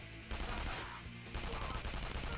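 Dense, continuous gunfire in the video game Persona 5 Royal, with loud sustained crackling that dips briefly in the middle before resuming, layered over game music.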